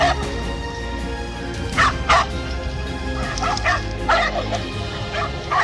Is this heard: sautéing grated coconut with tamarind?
no